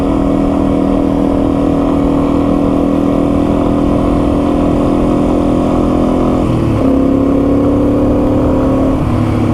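A Yamaha TW200 dual sport motorcycle engine, freshly carb-rebuilt, pulls steadily under acceleration with a loud, close drone, then briefly dips as the rider shifts up and the revs climb again.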